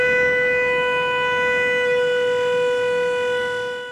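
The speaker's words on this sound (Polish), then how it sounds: "włączają syrenę, taką samą, której używają żeglarze w trudnej sytuacji," A steady sailors' distress siren, the same kind used by boats in fog, holds one loud, unbroken multi-tone wail for about four seconds, fading slightly at the end with no voices.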